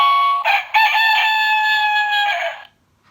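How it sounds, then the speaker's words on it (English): The rooster-crow alarm of a Lifemax 965.1 talking alarm clock plays a single electronic cock-a-doodle-doo, loud and close, with a synthetic, tonal quality before it stops. "So you got a beep sound, cuckoo, and a rooster."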